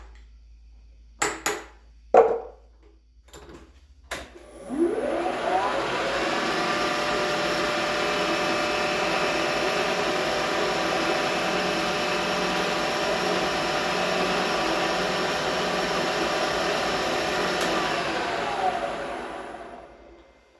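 Manual milling machine taking a chamfer pass on V blocks: a few sharp knocks, then a steady whirring cutting drone that holds for about fifteen seconds before winding down.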